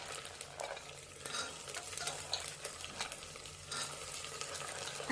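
Chickpeas tossed into a pan of potatoes and onion, frying and being stirred; a steady, fairly quiet crackling sizzle with scraping stirs runs throughout, with no voices.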